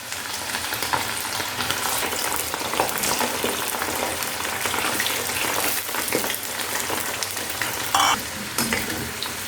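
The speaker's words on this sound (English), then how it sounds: "Now we'll add all these baby potatoes to the hot oil" Parboiled baby potatoes with their skins on frying in hot oil, a continuous loud crackling sizzle with scattered spatula clinks and stirring sounds, close and steady, with no talking.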